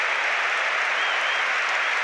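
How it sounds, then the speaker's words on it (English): A football stadium crowd gives a standing ovation at a Derby match, broad sustained applause forming a loud, even wash of clapping with no breaks. "this standing applause on 31 minutes is for a BBC Radio Derby commentator Colin Bloomfield"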